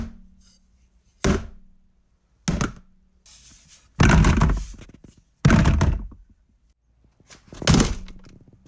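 Several short, dull popping thunks from knuckles rapping a plastic tub, isolated hits spaced irregularly with silence between them, close and fairly loud.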